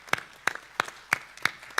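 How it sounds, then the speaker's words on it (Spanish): Applause for Iván Díaz, a departmental governor, at a dialogue panel of governors and local leaders: a few slow, evenly spaced claps ringing out in a reverberant hall, about six distinct hand claps, fairly faint overall. "Por favor, un fuerte aplauso para Iván Díaz."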